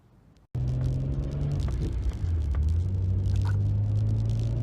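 A Nissan R32 GTR being prepared for drag racing starts up with a sudden loud rumble, then holds a steady, droning engine and road noise as it drives, heard close from inside the car.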